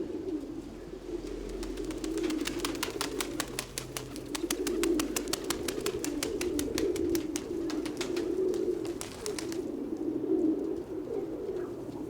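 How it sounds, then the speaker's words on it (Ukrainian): Pigeons coo in a low, continuous murmur throughout, with a rapid flutter of wingbeats through the middle, as a bird takes off. "Голубки тримаються."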